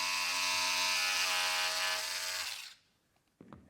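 WBT2-C electric composite scissors cutting 210 gram carbon-Kevlar hybrid and 300 gram pure Kevlar fabric: a steady, close motor whine holds for about two and a half seconds, then cuts off, leaving quiet and a brief soft knock.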